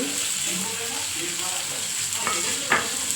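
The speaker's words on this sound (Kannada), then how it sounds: "ಸೊ ಇವಾಗ ನಾನು ಈರುಳ್ಳಿನ ಕಟ್ ಮಾಡ್ಕೊಂಡಿರೋದು ಹಾಕ್ತಾಯಿದ್ದೀನಿ." Chopped onions sizzle in a pan as they fry toward golden for a Karnataka-style palya, with a constant close hiss and a few scraping stirs of a spatula, the sharpest one near the end.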